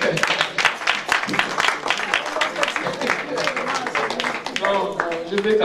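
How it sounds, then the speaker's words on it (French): Audience at a Gabonese diaspora community meeting in Nantes claps in a lively burst, fairly close and loud, with voices mixed in among the applause. "Applaudissez, donnez-moi un peu la force."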